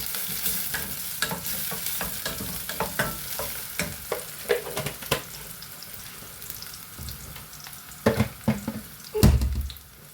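Chickpea masala for a Kerala-style curry sizzles and fries in a pan with a little kasuri methi, while a spoon scrapes and stirs in close, uneven bursts and a few louder clanks near the end.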